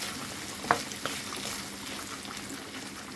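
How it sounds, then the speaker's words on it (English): Quiet sizzling of food frying in butter in a pan for carbonara, a steady soft crackle with a couple of small clinks early on. "So I'm just frying that off in the butter."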